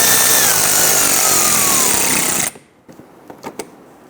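A power driver tightens bumper cover screws on a 2011-2019 Ford Explorer, whirring loudly and steadily for about two and a half seconds. It stops abruptly, followed by a few quiet clicks and taps.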